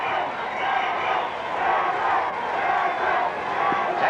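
Rugby crowd at Randwick cheering through a 1982 Wrangler Cup grand final against Petone, a dense, steady roar of many voices held at a constant level throughout, with no clear single speaker over it.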